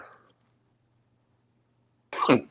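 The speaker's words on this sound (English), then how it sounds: "I'm coughing." One short, harsh cough close to the microphone after a stretch of near silence, with a faint voice trailing off at the start.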